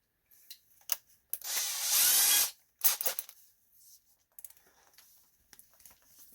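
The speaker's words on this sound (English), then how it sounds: "I'm gonna take a drill bit. I'm gonna see if I can drill into that." A small drill bit boring into a plastic part of a REDCAT Kaiju EXT RC car, with one sustained whirring burst of drilling between short scrapes and taps from handling in a quiet room.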